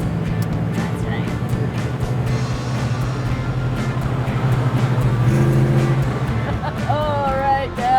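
A 1972 Dodge Charger drives in second gear with a loud, steady engine drone and road rumble heard from inside. The pitch shifts partway through, and voices talk briefly near the end.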